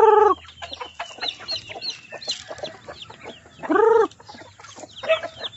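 Native chickens in a small yard, with newly hatched birds nearby, clucking in repeated bursts, with a few loud close calls at the start and near the middle over soft background chatter of other fowl.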